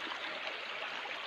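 Water rushes steadily down a waterfall and its stream in a continuous, close, even wash of white noise with no pauses.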